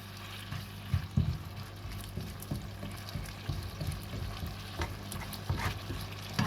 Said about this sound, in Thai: ก็จะใส่มะเขือเทศลงไปผัดด้วยนะคะ ให้เขาสุกนะคะ